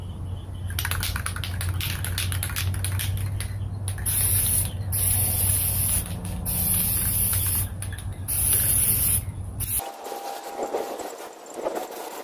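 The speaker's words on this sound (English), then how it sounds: "This is our Rust-Oleum frosted glass spray paint." Rust-Oleum frosted glass spray paint hisses from an aerosol can onto a light shade in several short bursts and longer sprays, with a soft rattling texture, before a quieter tail.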